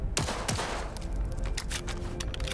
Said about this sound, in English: Alright, I'm gonna shoot anyway.